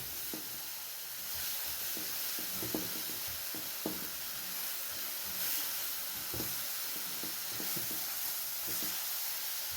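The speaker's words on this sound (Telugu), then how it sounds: "ఉల్లిపాయ వేగుతున్నది, అది నూనె వదిలేస్తున్నది, చూసారా?" Onion fries in oil with masala, a constant bright sizzle and hiss overlaid by scattered soft clicks and scrapes of stirring, with no one talking.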